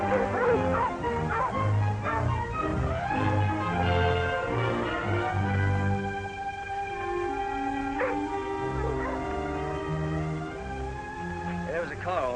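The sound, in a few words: dogs barking and whimpering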